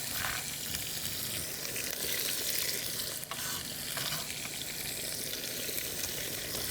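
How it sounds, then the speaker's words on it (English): Peppers frying in a pan for macaroni au gratin give a loud, continuous close sizzle, and scraping stirs run through it. No one speaks. "And then go for the peppers. Give that a good stir."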